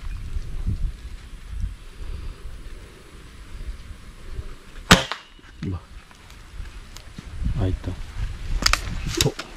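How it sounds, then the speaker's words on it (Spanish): A single sharp, loud gunshot from a white-winged dove hunt in El Salvador cracks out partway through, followed by a few thumps and scattered knocks against a quiet outdoor background. "Ese fue buen disparo, Willy."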